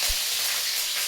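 Loud, steady hissing sizzle of tempering spices hitting hot oil for tomato kadhi, close up, with a brief low thump at the start.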